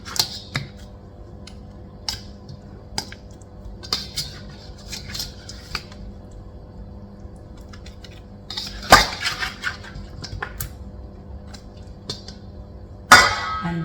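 Chilli fish ingredients are tossed in a pan, giving scattered light clinks and scrapes of metal and utensil, with a few louder knocks near the middle and at the end. Kitchen noise is otherwise quiet, and nobody talks.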